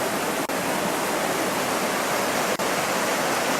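Water rushes continuously by the shore in a steady, loud broadband roar, like a waterfall or fast stream, unbroken apart from two tiny dropouts.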